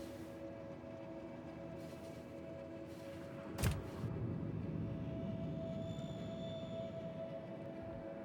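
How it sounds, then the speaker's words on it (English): In the game Factorio, a train strikes the player with a single sharp impact crack over a steady mechanical rumble and hum of moving rail cars, followed by continued rolling noise. "I guess you never expect to be like hit by the train"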